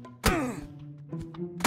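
Melee punches landing in a PUBG fight, two heavy close thwacks with a grunt and game noise between them.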